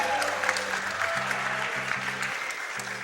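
Audience applause at a Super Mario World 0 Exit race during an Awesome Games Done Quick speedrun event, dense continuous clapping from a crowd with faint voices underneath.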